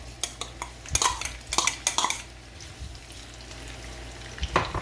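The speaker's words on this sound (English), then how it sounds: "In a pot with olive oil, you want to get your onions." Onions sautéing in olive oil in a pot for codfish in cream sauce, a soft low sizzle under a series of metallic spoon clinks and scrapes that bunch together early and then thin out.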